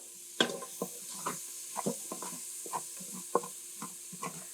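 Onions being stirred and scraped with salt in the bottom of an Instant Pot while sautéing, a series of short, close scraping strokes at an uneven rhythm over a faint sizzle, with no talking.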